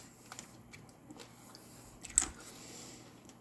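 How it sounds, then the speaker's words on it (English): Someone chews a bite of candied apple, soft wet mouth sounds with a brief crunchy crack, quiet and close with no talking. "I'm chewing."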